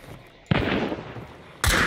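Gunfire in the Hunt: Showdown shooter game, two abrupt loud shots about a second apart, each followed by a sustained roaring tail, with no talking.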